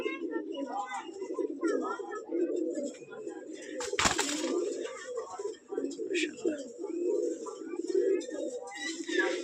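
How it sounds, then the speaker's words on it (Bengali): Several pigeons, including black and small white Jag pigeons, coo in a low, steady, overlapping murmur close by throughout, with a brief louder rustle or flap partway through. "এই যে একটা কবুতর"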